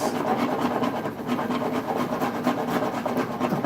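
A wood rasp files a carved shoe heel with light strokes, giving a continuous close scraping and rubbing with no voices.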